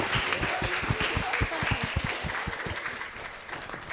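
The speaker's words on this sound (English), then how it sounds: "Everybody, could I get a round of applause for our panelists" Close, dense clapping from an audience applauding panelists at a citizen science showcase, individual hand claps distinct and continuous throughout.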